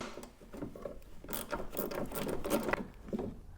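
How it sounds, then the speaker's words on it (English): A ratchet wrench with a 10mm socket loosens a bolt on a car door check strap, giving rapid, close clicking bursts in uneven runs with no talk. "I've got my 10mm with my ratchet."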